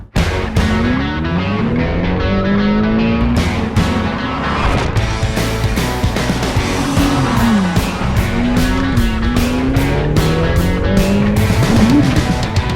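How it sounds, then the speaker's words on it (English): A 2020 Ferrari F8 Tributo with a 3.9-liter twin-turbo V8 driving, engine pitch rising and falling through gear changes under a continuous musical bed. "This is my 2020 Ferrari F8 Tributo, and I'm going to take you for a ride in it today"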